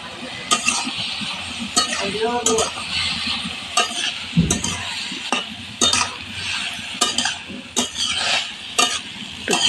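Vegetables for sabudana khichdi are stirred in a pot with a spoon that scrapes and clinks against the metal in repeated, irregular strokes over a quieter sizzle. The sound is close, and no one speaks.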